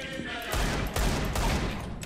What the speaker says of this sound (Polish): 10 strzałów na jednego rywala.